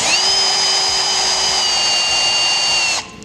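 A power drill drives a screw fitted with a multinut into a bumper, running as a loud continuous whine close by for about three seconds before stopping abruptly.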